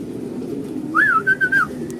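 A single thin, wavering whistle-like call from a small bird, likely a racing pigeon in a loft, sounds briefly over a low steady rumble of background noise.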